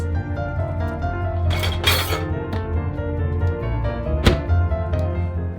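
Dishes are washed at home in a kitchen, with clinks of plates and glassware, knocks and thunks, and bursts of running water over a steady background hum, with no speech.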